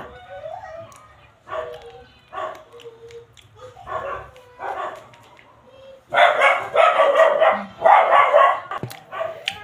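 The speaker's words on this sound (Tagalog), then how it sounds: "nagtatahulan na naman yung mga aso" Several dogs bark in scattered bursts, starting sparse and then erupting into a louder, overlapping chorus of barks and yips near the end.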